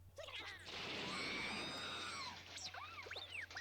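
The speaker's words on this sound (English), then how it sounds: "Why does R2 scream?" R2-D2, the droid from the Star Wars film A New Hope, lets out a loud, sustained electronic scream with falling tones, followed by a burst of shorter warbling, chirping beeps.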